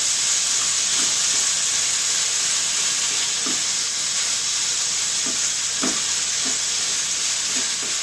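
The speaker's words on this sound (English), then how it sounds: "Just give this a little stir through here. Let our ginger start to cook down" Ginger sautéing in a pan with mushrooms nearby: a constant close hiss and sizzle runs throughout, with a few soft stirring knocks scattered across it and no voices.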